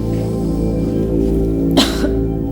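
A single harsh cough rises briefly out of a steady low background hum during a doctor's chest examination, close and fairly loud, with no talking at that moment.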